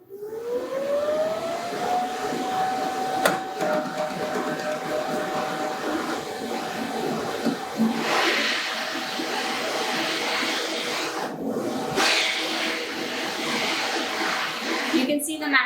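A Cricut Venture cutting machine loads and then unloads its cutting mat, giving a close, steady motor whine that rises in pitch at the start and then holds a continuous tone with faint mechanical rattles.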